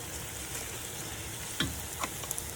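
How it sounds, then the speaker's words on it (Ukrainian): Carrot added to softened onion frying in a pan, a steady low sizzle with a few brief stirring clinks near the end, no voices. "Цибуля прив'яла вже тоді додаємо сюди ось моркву. Чуть-чуть присмажиться"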